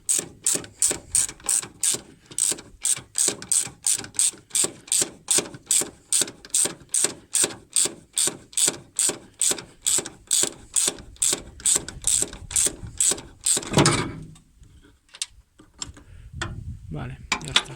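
A ratchet wrench loosens a car's suspension strut nut during a top-mount bearing replacement, with about thirty rapid, evenly spaced clicks over roughly fourteen seconds, followed by a few scattered clanks of the loosened parts.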